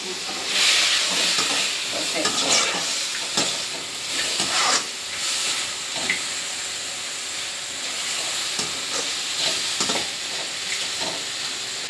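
Chicken pieces fry in a pan with a continuous sizzle and crackle, punctuated by repeated scraping and clinking as a utensil stirs them; the sound stays close and fairly steady throughout.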